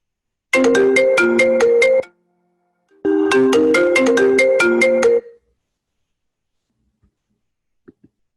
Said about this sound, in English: For some reason, my phone feels the need to ring through my computer, even when it's off.